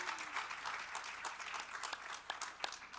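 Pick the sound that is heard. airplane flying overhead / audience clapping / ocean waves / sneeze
audience clapping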